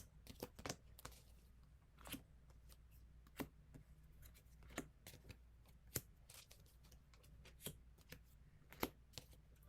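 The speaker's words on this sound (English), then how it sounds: "It does feel like I'm dealing cards though." K-pop photo cards being handled and sorted like a dealt deck: a close, quiet series of sharp flicks and soft slides of card stock, irregular and spaced out, with no talking.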